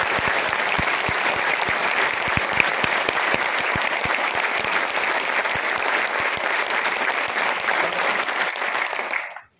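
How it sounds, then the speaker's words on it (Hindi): A large audience claps loudly and continuously for Paralympic medal winners at a sports minister's address, a dense, sustained applause that ends abruptly. "ये उतने मेडल जीतने वाली तालियां तो है।"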